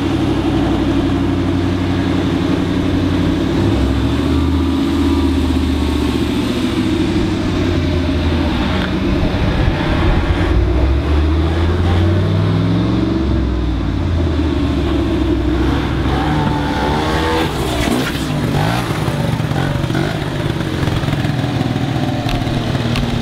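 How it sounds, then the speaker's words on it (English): A mint-condition 1987 Honda Aero 50 two-stroke scooter is ridden, its buzzing engine loud and close throughout, rising and falling in pitch as it accelerates and eases off, with wind noise and no talk. "It's a Honda two-stroke scooter, 1987, and it's in mint condition"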